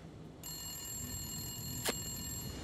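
A telephone rings in the video game The Long Dark, a steady electronic ringing tone that starts suddenly and holds over quiet ambient background noise, with a brief burst of noise partway through.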